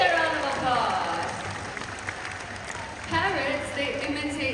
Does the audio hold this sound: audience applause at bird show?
yes